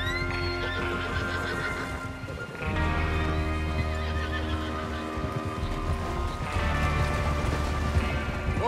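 Horses whinny and neigh in the Red Dead Redemption 2 video game, with hoof clops and tack sounds running steadily underneath and a fresh burst of neighing partway through.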